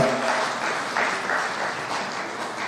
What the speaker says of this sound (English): please let's recognize them with a warm clap